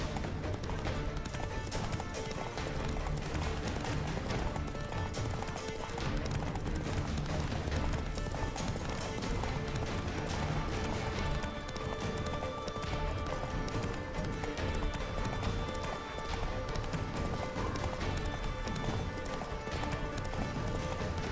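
Hooves drum steadily as a horse gallops at full pace across open ground in The Witcher 3, a continuous loud rhythmic clatter with no voices over it.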